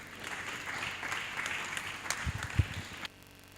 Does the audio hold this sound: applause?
yes